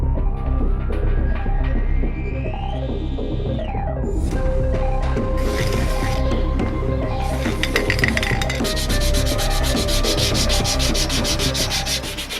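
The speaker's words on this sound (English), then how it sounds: "Then we smooth out the surface with sandpaper" Sandpaper rubs back and forth over the surface of a car engine part during an engine swap, a close, loud, rhythmic scratching with a few clinks, and no talking.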